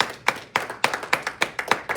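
Congregation clapping during a Spanish-language church service, a rhythmic run of about a dozen sharp, fairly close hand claps at an even, quick pace with no talking.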